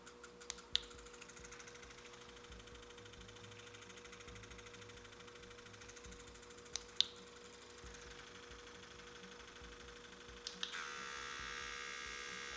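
A Dragonhawk X8 rotary tattoo machine with a 4mm stroke runs at a higher RPM setting, giving a faint, steady electric hum punctuated by a few small clicks, with a slight rise in buzz near the end.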